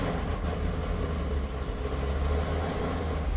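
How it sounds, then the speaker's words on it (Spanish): A Chevrolet Camaro with built-in nitrous idles as it warms up, a steady deep engine rumble with a slight uneven lope holding close and loud throughout. "Que el motor esté caliente antes de darle una paliza."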